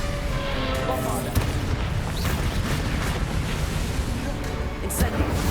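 A loud, booming spell explosion from Hogwarts Legacy combat sounds amid continuous rumbling battle noise, with sharp bursts near the start and end.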